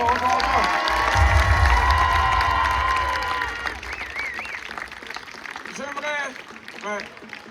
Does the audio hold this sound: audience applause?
yes